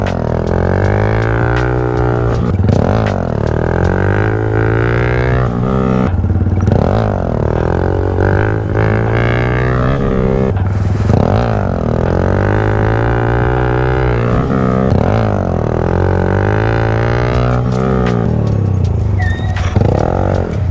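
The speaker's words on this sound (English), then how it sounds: "Let's practice a couple of wheelies." A sport motorcycle rides hard while practicing wheelies, its engine screaming and revving loudly in repeated surges and drops, with rapid pitch swings and rattling clatter throughout, close and continuous.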